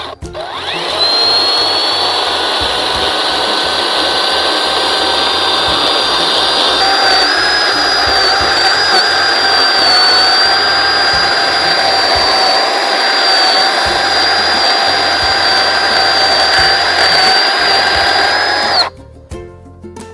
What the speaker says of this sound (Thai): เลื่อยโซ่แค่นี้จะสามารถผ่าไม้ได้ไหมครับ